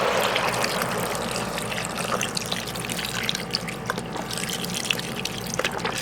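Organic low sodium beef broth pours into an Instant Pot, a steady splashing trickle of liquid running continuously with small drips and clinks.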